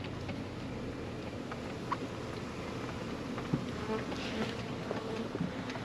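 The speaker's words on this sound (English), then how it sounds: "There's still a few bees buzzing around it." Bees buzz softly around beehives in a steady outdoor drone, with a few faint ticks and taps scattered through.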